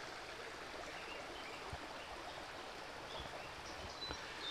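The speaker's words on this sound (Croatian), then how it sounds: "ovdje prelazimo potočić preko ovog drvenog mostića" A small forest stream on Medvednica flows beneath a wooden footbridge, giving a steady, soft broadband rush of running water with no pauses throughout, faint and evenly level, with no voices over it.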